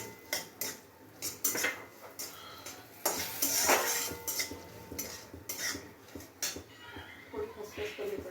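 Dry fruits go into a pan of poppy seeds toasting in ghee, with repeated close clinks and scrapes of a spoon against the pan in uneven bursts and only a faint sizzle underneath.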